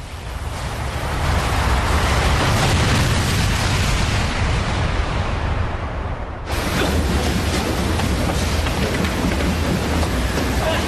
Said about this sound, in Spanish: Me ha parecido una explosión. Ha sido en la central.